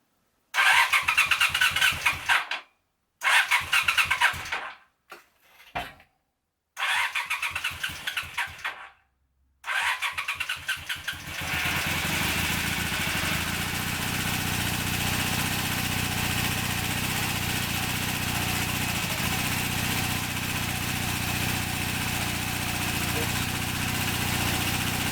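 A project motorcycle with choke on cranks in several short loud bursts and then catches, settling into a steady, even idle that runs on close by to the end.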